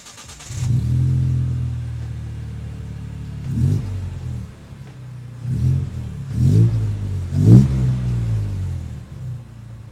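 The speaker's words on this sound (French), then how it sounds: "elle est équipée d'un silencieux sport pour profiter au mieux de sa sonorité" A Morgan Roadster 3.7-litre V6 engine idles with a deep rumble, then revs several times in sharp bursts through a throaty sport exhaust, close by.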